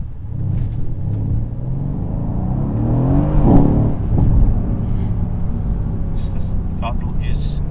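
A 2018 Mercedes-Benz C63S AMG sedan engine accelerates in first gear with a deep, rising rumble heard from inside the cabin, building steadily before easing off, while people talk over it throughout.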